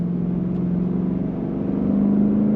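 An engine on a Lexus IS 500 F Sport Special Edition sedan revs up from 3,000 RPM, a steady hum with a low tone that rises and swells slightly toward the end.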